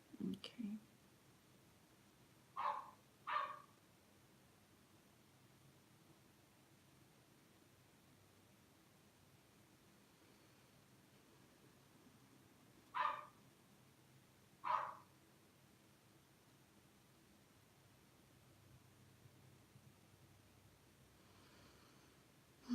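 A dog barks several times in the distance during a quiet indoor tarot reading: a single bark, a close pair, a long pause, then another pair, over low hiss.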